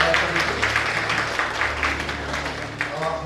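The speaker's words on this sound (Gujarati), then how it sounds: "આદરણીય ચંદ્રિકાબેન આપણા વચ્ચે પધાર્યા છે તો બધા તાળીઓથી એકવાર" An audience claps at a birthday celebration as a guest is welcomed, a dense, moderately loud patter of many hands that runs steadily throughout.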